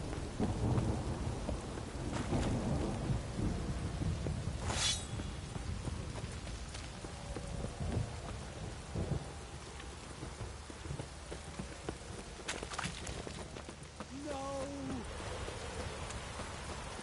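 Heavy rain pouring down in The Witcher 3 game world, a constant dense hiss of drops with several rumbling thunder rolls and cracks breaking through over the steady downpour.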